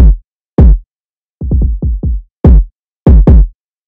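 Deep, boomy drill-beat kick drum hits in an uneven pattern, a single thump, then a quick cluster of four, then several more, with silence between, no other instruments.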